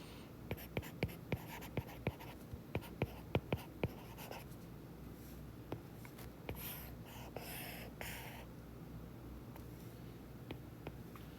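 Pen on paper, close and quiet, writing out a math identity by hand: quick sharp taps and short strokes in an irregular rhythm, followed by softer scratchy scribbling.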